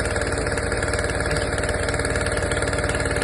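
An engine idles with no load in a steady, loud, continuous drone with a fast even pulse and slight rattle, running alone throughout.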